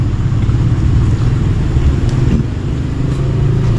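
Motorcycles ride past on a roadside, a dense, continuous engine drone and road rumble at close-to-mid distance, steady in level throughout.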